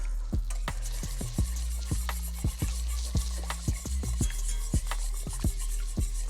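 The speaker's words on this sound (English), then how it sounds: "Grab a whisk." A metal whisk scrapes and taps steadily against a pan on the stove while a creamy cheese sauce is mixed for chilaquiles verdes, a close, loud rhythmic clatter of strokes with no talking.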